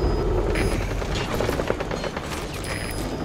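Loud rotor thump and mechanical whirring from a support helicopter arriving in the war game Metal Gear Solid V, steady and close, with scattered gunfire-like cracks over the din.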